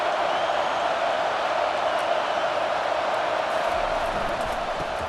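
Football stadium crowd at a Michigan vs Arkansas game, a continuous loud roar of many voices rising against the offense, steady throughout with no clear pauses.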